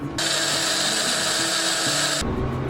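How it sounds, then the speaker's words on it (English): A blender whirs loudly and steadily for about two seconds, blending kimchi seasoning with water, motor droning with slight pitch shifts, then cuts off abruptly. "We'll go and blend it."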